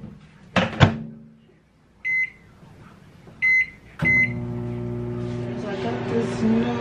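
Microwave oven reheating a meal of rice, chicken, green beans and carrots: a door thunks shut, keypad beeps sound twice, then a start beep and a steady close hum as it runs.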